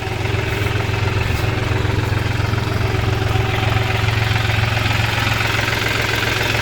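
A New Holland tractor fitted with a front loader and rear digger runs its three-cylinder engine close by, a loud, steady, throbbing idle that holds an even rhythm throughout with no voices.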